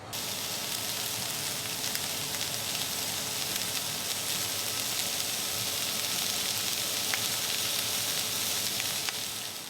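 Corn simmering and sizzling in a pan, an even, unbroken hiss and crackle of hot fat that holds steady and close throughout with no voices.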